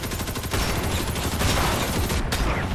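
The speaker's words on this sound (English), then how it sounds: "I can kind of hear the bullets whizzing past my head." Dense gunfire and bullets whizzing by in the online shooter Ghost in the Shell: Stand Alone Complex - First Assault, a loud continuous barrage of rapid shots with no talking.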